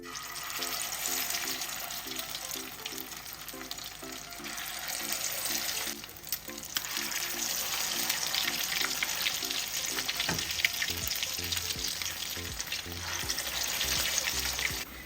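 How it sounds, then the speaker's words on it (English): Salmon patties made from canned salmon fry in hot oil with a loud, dense, crackling sizzle that continues steadily, with a brief dip midway and a few faint clinks. "I'm gonna go ahead and add the patties to the oil."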